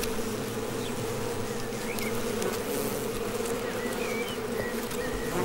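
Bees swarm around their hive in a dense, continuous buzzing drone that stays fairly soft and even throughout, with no voices.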